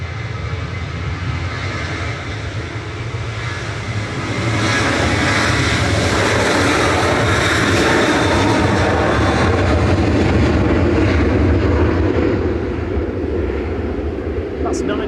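An ETF Airways jet flying for Jet2 passes at Manchester Airport, its engine roar swelling into a loud, sustained rumble before easing slightly toward the end.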